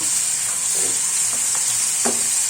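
Onion paste frying in oil in a pan for a Bengali fish curry with cauliflower, a steady bright hiss and sizzle with a few soft stirring scrapes, heard up close without speech.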